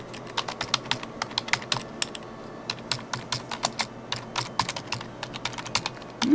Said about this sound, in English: I'm just going to type in some information.